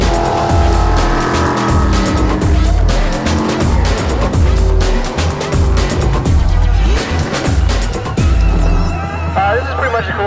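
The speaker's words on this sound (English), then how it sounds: "We're out here jet boating." Jet boat engines roar loudly and close with surging, churning bursts and rushing spray, the noise swelling and easing over several seconds, while people talk and shout over it.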